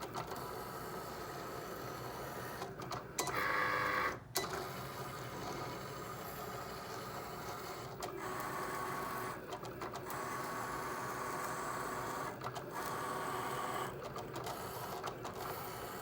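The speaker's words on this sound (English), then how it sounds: "Now it's going to send this project to your machine to print." A home printer prints a chip bag party favor template, its mechanism whirring and grinding steadily and loudly, broken by short pauses and shifts in the motor sound, with no voices.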